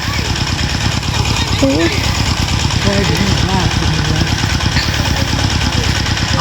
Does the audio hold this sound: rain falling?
no